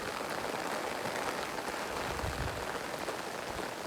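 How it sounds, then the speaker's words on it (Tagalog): Steady rain pours down in a continuous dense hiss, drops pattering on a surface throughout, with no voices. "Umuulan. Maagang ulan."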